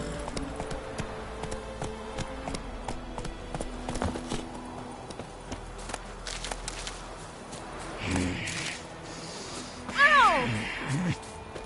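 Horse hooves clip-clopping at a walk in the video game Witcher 3, a steady close rhythm of hoof falls over faint game ambience, with a short horse snort or whinny near the end.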